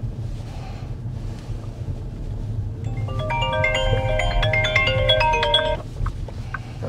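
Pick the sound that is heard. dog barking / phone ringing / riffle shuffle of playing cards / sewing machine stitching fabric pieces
phone ringing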